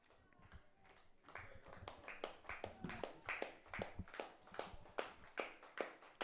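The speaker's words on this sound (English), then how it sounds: "Crowd clapping." A baseball crowd claps in steady rhythmic bursts, quick sharp hand slaps repeating about twice a second and growing stronger partway through, heard at moderate distance with a light murmur beneath.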